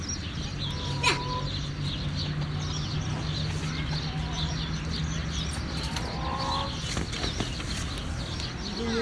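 Chickens cluck at a petting farm amid a busy outdoor background of scattered farm noise, with people talking at times; the clucks are intermittent and moderately distant.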